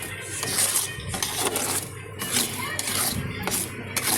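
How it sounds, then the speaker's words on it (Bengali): Spice paste being stirred and fried down in a pan for a spicy tengra fish curry, with repeated scraping and clinking of a spatula against the metal pan in an irregular rhythm, close and moderately loud. "এদিকে ট্যাংরা মাছের ঝালের জন্য মশলা কষাচ্ছি আমি।"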